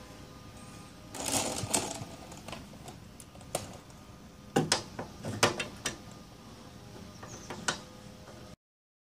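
A box wrench and socket wrench work loose bolts on a Jeep Wrangler YJ rear bumper, giving quiet scattered metallic clicks and ratcheting taps with a few sharper clanks over low background noise.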